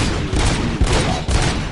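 Gunfire in the Robocop video game, a burst of several sharp shots cracking in quick succession over a dense, noisy background.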